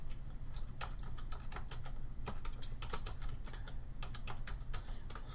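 Computer keyboard typing as C# code is entered, a steady run of quick clicky keystrokes in uneven bursts over a low constant hum, close and clear with no talk.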